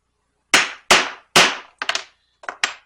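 Rivets are hammered into a leather knife sheath: six sharp, loud strikes ring out close by, the first three heavy and evenly spaced, followed by lighter, quicker taps.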